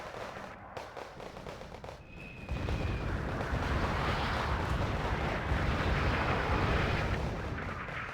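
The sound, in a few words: artillery mortar fire in the video game Wargame Red Dragon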